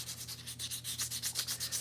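Wooden slingshots being hand-sanded give a steady run of about a dozen rhythmic scratchy strokes, close and fairly quiet, over a constant low electrical hum, with no talk.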